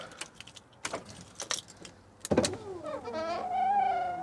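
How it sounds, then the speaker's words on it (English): An electric power window on a London black cab motors along with a whining hum after a few clicks and taps, the motor tone rising and steadying near the end. "The window on this side is a bit slow"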